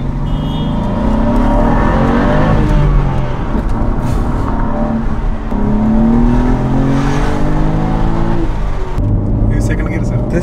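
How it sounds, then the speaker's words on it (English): A BMW M2 sports car with a manual transmission drives with the windows down, its engine and exhaust droning steadily and rising in pitch through several rev sweeps, loud and close from the cabin, with faint voices underneath. "Yeah, this is the exhaust note. Like, this is what the car is producing."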